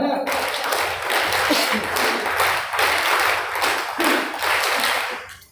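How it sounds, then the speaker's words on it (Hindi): Group of students clapping hands together in unison at a self-defence training session, a sustained burst of applause with rhythmic claps, fairly loud and close, fading at the end. "ताली बजा।"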